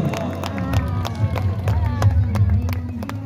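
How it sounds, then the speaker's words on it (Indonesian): Spectators clap and cheer at the finish of a women's triathlon race in Takengon, Aceh, with busy crowd babble, an announcer's voice and scattered claps all mixed close and loud. "Beri tepuk tangan yang meriah."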